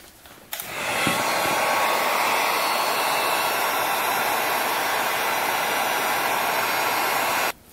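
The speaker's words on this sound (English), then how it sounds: "let's warm it up with the heat gun" Heat gun warming a cold fuel line on an abandoned Yamaha Breeze, switching on with a click and then blowing a loud, steady, close-up roar of air before cutting off at the end.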